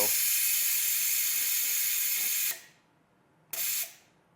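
Compressed air from a tank-and-compressor setup hisses steadily as an Air Lift WirelessAIR suspension on a 2019 Ford inflates from 5 to 20 psi, cutting off abruptly, then a second short burst.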